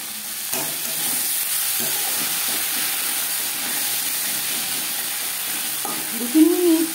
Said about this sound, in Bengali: লবণ হলুদ পেঁয়াজ টমেটোর সাথে বেশ ভালো করে মিক্স করে দেব।